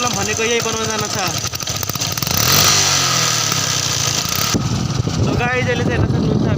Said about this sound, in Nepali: बाइकले अहिले मिसिङ हानिरहेको छ बाइकले